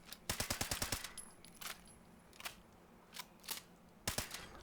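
The Fixer rifle fires in Fallout 76, first as a rapid burst of about eight close, loud shots, then as single spaced shots.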